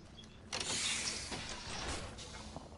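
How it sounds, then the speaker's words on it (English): A care package dropping in Apex Legends, a mechanical whirring descent with a rising rush and whoosh, moderately loud and lasting a couple of seconds. "There's a care package coming down."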